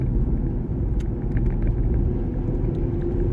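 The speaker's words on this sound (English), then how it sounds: "I forced it to downshift now" Vauxhall Astra J car downshifting on the road, a steady low engine rumble and drivetrain drone heard from inside the cabin, with no voices.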